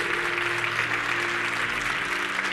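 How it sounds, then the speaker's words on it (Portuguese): A church congregation claps in a dense, steady burst of applause that fills the room without pause, loud and sustained throughout. "Os que creem, aplaudam ao Senhor."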